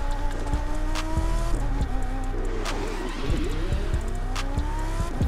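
V10 engine of a Lamborghini Superleggera in the racing game The Crew 2, revving through rising gear sweeps with shifts and tire squeal, loud and continuous throughout.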